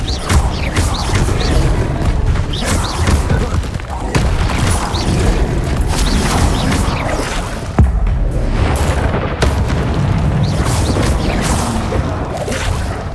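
Fire spells cast in the Hogwarts Legacy video game produce a loud, dense roar of whooshing flames and booming bursts that runs continuously, with a sharp crack near the middle.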